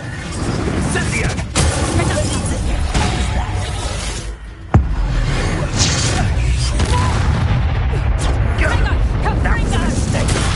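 A fire spell cast in Hogwarts Legacy, heard as dense roaring, crackling blasts that run continuously, with a sharp burst near the middle of the clip, loud and close throughout.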